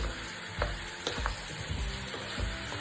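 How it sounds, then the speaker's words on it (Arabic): Onions frying in a pot for Iraqi red meat tashreeb, a quiet continuous sizzle with a few sharp spoon taps and stirs against the pot, close and alone without speech. "هذا نحمس البصل شوية،"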